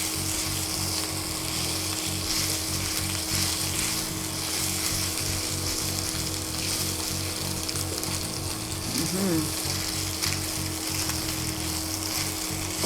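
Pork fries in its own rendered oil, giving a continuous, close, crackling sizzle with dense spattering and faint scraping, steady throughout with no voices.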